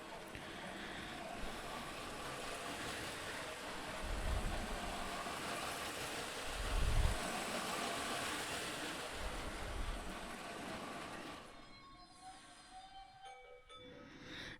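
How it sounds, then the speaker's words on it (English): A small Lego City Disney toy train (set 71044) whirs steadily around its track nearby, with a few low rumbling thumps, then the motor cuts out and it goes quiet. "I feel it's no good having a train without a train demonstration. So there it goes."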